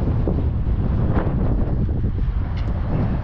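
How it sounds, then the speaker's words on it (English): Strong wind buffeting the microphone outdoors during a Prius car wash, a loud continuous low roar with gusty fluctuations and no talk. "Oh, it is starting to get windy."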